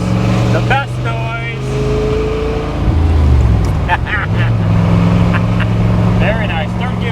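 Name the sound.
1966 Chevrolet Corvette big block engine running loud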